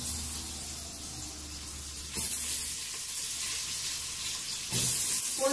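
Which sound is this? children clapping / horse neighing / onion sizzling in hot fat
onion sizzling in hot fat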